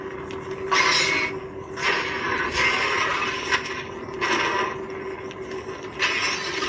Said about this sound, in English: These are stab sounds.